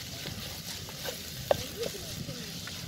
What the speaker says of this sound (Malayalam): ഉള്ളി ഏകദേശം വഴറ്റി വന്നിട്ടുണ്ട്.